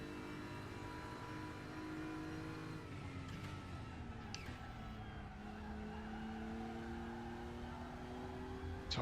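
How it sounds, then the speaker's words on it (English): Tyres squeal mid-corner on a DTM race car in the Raceroom sim racing game, a steady engine drone with sustained tonal tyre scrub running throughout, fairly quiet. "Tyres complaining mid-corner"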